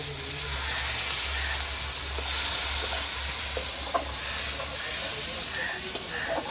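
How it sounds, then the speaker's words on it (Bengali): Spice paste of tomato paste and turmeric with a splash of water sautéing in a pan, a steady close sizzle and hiss with occasional stirring clicks and scrapes throughout, a low hum underneath. "সামান্য একটু জল দিয়ে কষাতে দেব"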